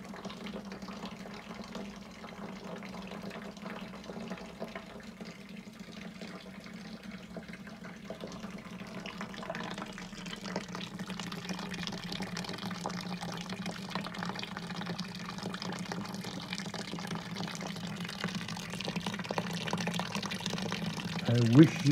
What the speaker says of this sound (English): So we're now sparging.